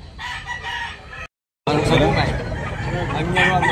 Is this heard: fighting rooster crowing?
yes